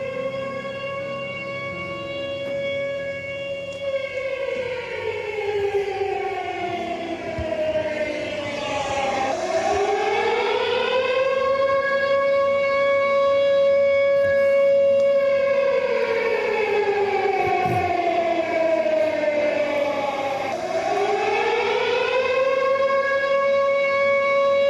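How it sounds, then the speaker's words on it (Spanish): A civil defense siren sounds at the AMIA bombing memorial ceremony in Argentina, a loud continuous wail that rises and falls in long slow cycles over a faint crowd murmur. "¿Qué te dice esa sirena?"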